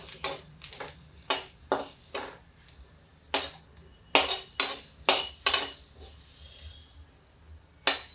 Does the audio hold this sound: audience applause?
no